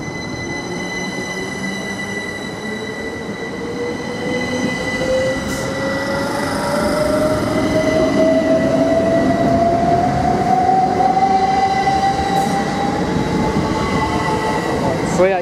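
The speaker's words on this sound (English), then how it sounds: "17637, just arriving into platform 2 en route to Stansted Airport" Train 17637 pulls into platform 2 at Ely Station, bound for Stansted Airport, its wheels squealing in a long, slowly rising whine over a loud, steady rumble that swells as it nears.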